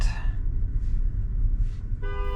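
A car horn honks in traffic on the road, with a brief blast at the start and another at the end over a low rumble of road noise.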